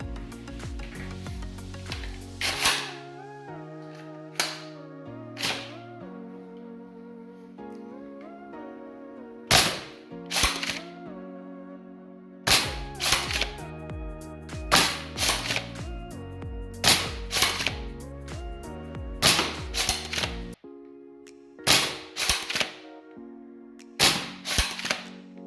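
A Worker Swift foam blaster fitted with a grooved barrel fires repeatedly in sharp, loud snapping shots, with the whirring and clicking of the blaster between them over a background music track.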